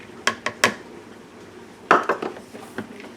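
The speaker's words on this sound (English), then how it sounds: "And now we're going to mix all of this." Batter being mixed in a bowl with shredded mozzarella nearby: a few quick clinks of a utensil against the bowl, a short pause, then another cluster of scraping taps, close and fairly loud.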